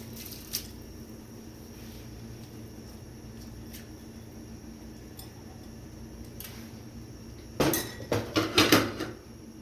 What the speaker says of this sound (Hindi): तो इसमें चावल डालेंगे।